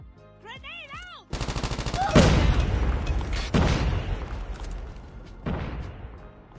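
A grenade explosion in the Call of Duty Mobile video game: a deep booming blast followed by further heavy bursts and rumbling gunfire, loud and continuous, after a brief stretch of short synthetic game tones.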